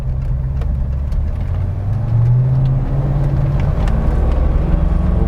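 A 1973 Mercury Cougar XR7 with a 351 four-barrel V8 runs close by, a steady low rumble that swells briefly as the revs rise, with no talk.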